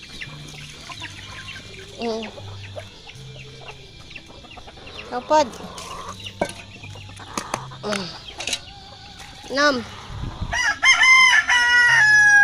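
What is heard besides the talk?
chickens clucking and rooster crowing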